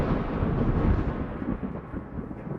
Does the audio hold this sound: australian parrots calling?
no